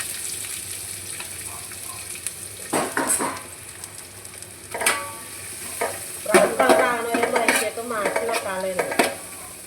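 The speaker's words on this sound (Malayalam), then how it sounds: "നമുക്ക് ഇതിൽ സവാള വയറ്റി എടുക്കാട്ടോ സവാള വയ്ക്കണം" Onions sizzle quietly in ghee in a pan for biryani while a spoon stirs and scrapes in scattered bursts, with a steady hiss underneath and no voices.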